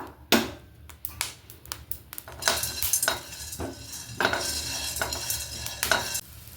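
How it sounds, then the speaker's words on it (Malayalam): Small asafoetida pieces crackling in hot oil while a spoon scrapes and clinks against the pan in irregular bursts, close by. "എന്നിട്ട് നമുക്കതിലേക്ക് കുറച്ച് കായത്തിൻ്റെ കഷ്ണങ്ങൾ ഞാൻ ഇട്ട് കൊടുത്തിട്ടുണ്ട് അത് നമുക്കിങ്ങോട്ട് വറുത്തെടുക്കാം"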